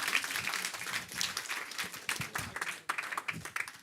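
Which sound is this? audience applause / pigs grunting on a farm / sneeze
audience applause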